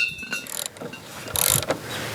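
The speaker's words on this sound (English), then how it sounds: "we're going to get a wrench and loosen this. And I'm going to use my breaker bar." Breaker bar with a wrench cranking loose the axle bolt on a motorcycle during a tire change, giving close metallic ratcheting and clicking with a brief louder burst of mechanical clatter, no talk.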